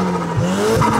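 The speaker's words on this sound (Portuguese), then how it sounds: "Pra vocês ouvirem o que a gente chama de Turbo Flutter" Turbo flutter from a Volkswagen Golf GTI MK7 under acceleration, a brief, close, loud fluttering whoosh riding over the engine's tone.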